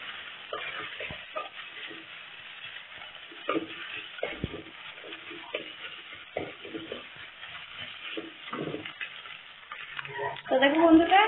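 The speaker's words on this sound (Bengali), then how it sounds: "এখন আমি এখানে মাছগুলা দিয়ে নাড়াচাড়া করে" Fish fries in a pan with Bengali stalk curry ingredients, a continuous close sizzle broken by the scrape and clatter of stirring, rising to louder spattering at the end.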